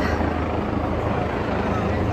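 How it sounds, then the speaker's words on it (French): A loud, steady helicopter rumble close overhead an old square in Prague, with continuous rotor throb filling the whole stretch. "Avec un hélicoptère juste au-dessus."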